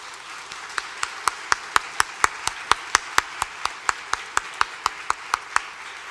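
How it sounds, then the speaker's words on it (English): A steady run of evenly spaced claps at a recognition ceremony, about twenty of them, crisp and close with a faint room hiss underneath and no talking. "Let's give them a round of applause."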